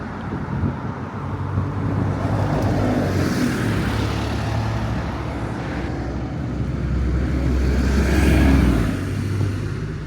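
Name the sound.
Ferrari sports car engine revving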